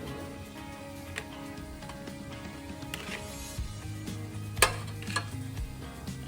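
Chicken shallow frying in a pan sizzles low and steady, with scattered ticks and scrapes from turning the pieces and a sharp clink near the end, close by and without speech.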